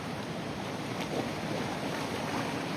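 Ocean surf rolling in at a low-tide shore of a boat harbour reserve, a steady broadband wash with gentle swells and some wind, continuous and fairly near, with no voices.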